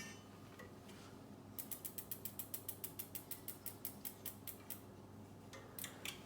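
Quiet rapid clicking from the pad adjuster of an Avid BB7 disc brake on a Surly Disc Trucker bicycle, a run of about twenty even ratchet-like clicks followed by a few more near the end.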